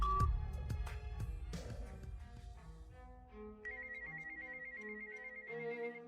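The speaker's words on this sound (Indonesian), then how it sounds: "Berdering lagi." A telephone rings repeatedly in a tense hospital-emergency family drama, its electronic ringtone chiming in a steady pattern over a background music score, fairly close and clear with no talking.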